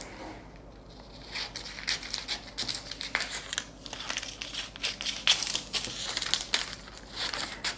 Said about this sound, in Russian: Вырезаю.